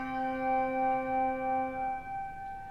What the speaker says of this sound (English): If you play a bell, you say, well, that's a tone